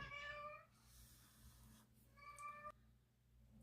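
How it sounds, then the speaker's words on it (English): A house cat meows twice, short clear calls at close range, separated by a quiet pause with faint room noise. "the cat has come in to say hello"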